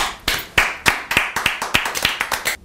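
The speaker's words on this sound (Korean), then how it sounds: "박수 한 번만 쳐주세요" A small group claps about a dozen times in a quick, fairly even rhythm, each clap sharp and close, with the last few coming slightly faster before stopping abruptly; no talking.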